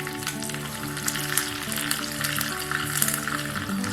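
Tempering of urad dal, mustard seeds, dried Byadagi chillies and curry leaves sizzling in hot oil for hotel-style chutney, a steady close crackle with brief pops throughout.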